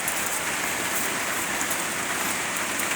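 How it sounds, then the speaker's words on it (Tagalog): Sudden rain pours down steadily on surfaces outdoors at a roadside food stall, a dense, even hiss that fills the whole moment with no voices. "biglang umulan!"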